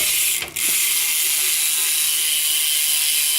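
A BMX bike's rear hub ratchet clicks in a rapid, loud, continuous buzz, up close and alone, with a short dip as the wheel briefly slows near the start.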